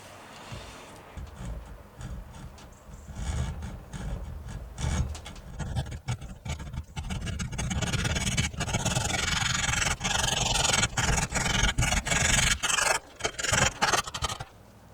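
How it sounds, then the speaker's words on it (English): A metal saw cuts a tube clamped at a 45-degree angle in steady back-and-forth rasping strokes that grow louder and denser, close and continuous for the whole stretch with no talk. "use a metal saw to chop it off at an angle, or try to, at a 45-degree angle"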